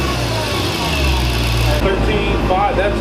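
A Dodge Challenger Hellcat fitted with a JLT Performance intake sits idling, a steady deep low rumble throughout, with a slight shift in tone partway through.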